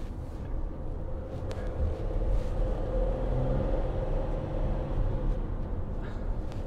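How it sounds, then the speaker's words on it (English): A Mercedes-Benz Sprinter 2500 cargo van with a V6 turbo diesel drives along, giving a steady, close low engine and road rumble throughout with no talk. "that V6 turbo diesel puts out plenty of power to move this thing. Definitely audible"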